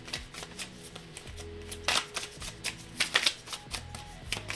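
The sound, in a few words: shuffling a tarot card deck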